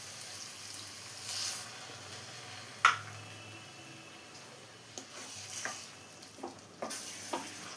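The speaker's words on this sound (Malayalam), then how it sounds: "ഇനി ഇതുപോലെ ഒന്ന് മിക്സ് ചെയ്ത് കൊടുത്ത ശേഷം ഇതിലോട്ട് 1/2 കപ്പ് വെള്ളവും കൂടെ ഒഴിച്ചു കൊടുക്കാ" Mushroom and green pea masala with added water is stirred in a pan, a low simmering sizzle under scattered spoon scrapes and taps, with one sharp knock partway through.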